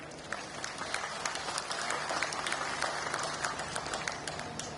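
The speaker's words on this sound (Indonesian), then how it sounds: "Tepuk tangan dulu" A large outdoor crowd of ride-hailing drivers and workers at a rally applauds steadily, a dense, continuous patter of many hands heard from a distance and fairly faint.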